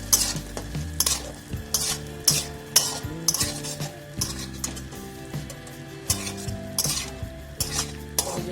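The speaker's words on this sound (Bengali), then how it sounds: "এবার আমি সেদ্ধ করা আলুগুলো দিয়ে দেবো দিয়ে আমরা ভালো করে ভেজে নেবো" Boiled potatoes fry in butter and garlic in a pan, stirred with a utensil that scrapes and clinks against the metal in repeated strokes over a steady close sizzle.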